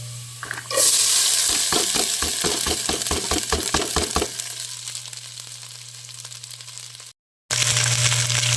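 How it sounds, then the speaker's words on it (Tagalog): Onion, garlic and corn sauté in a hot pan with a steady loud sizzle, while a spoon scrapes and stirs in a quick rhythmic run of about a dozen strokes, then the frying hisses on alone with a brief cut near the end. "maggisa na tayo ng sibuyas, bawang. Siyempre mga idol, ilagay na natin yung ating mais."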